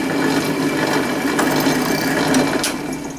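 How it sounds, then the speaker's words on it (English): A drill bores holes in a small part for a Gauge 1 live steam garden railway carriage, giving a steady whirring grind that runs close and continuous for several seconds, with no talking. "So let's drill some holes."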